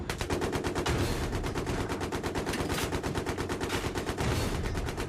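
Rapid automatic gunfire is aimed at helicopters in the first-person shooter Battlefield 3, a loud, dense, continuous rattle of shots filling the whole stretch.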